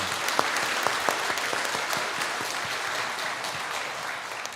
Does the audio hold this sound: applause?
yes